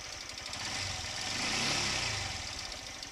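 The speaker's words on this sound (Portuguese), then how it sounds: "Vou dar uma aceleradinha aqui pra vocês verem." A 2018 Honda CG 160 motorcycle with an engine noise fault is briefly revved, its steady rumble swelling to a peak and easing back down, close and alone.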